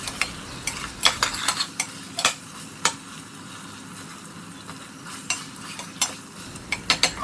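Potatoes and tomatoes sautéing in a pressure cooker, a soft continuous sizzle broken by scattered sharp clinks and scrapes of a spoon stirring against the metal pot, close and fairly quiet.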